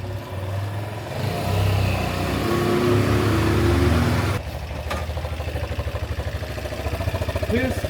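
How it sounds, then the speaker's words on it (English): A roughly 200 cc motorcycle engine runs nearby, its note rising as it approaches, then shifting to a rhythmic pulsing idle, with a person talking over it. "I hear the motorcycle, I hear it."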